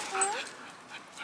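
A nine-month-old puppy on a lakeside hiking trail gives a short, high whimpering yip up close, briefly, among faint voices of people nearby.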